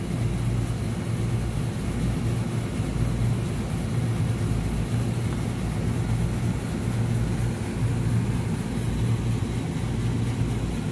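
An HVAC blower motor runs on an air conditioning unit that had tripped its breaker, a steady broadband whoosh with low hum, continuous and fairly loud, no talk.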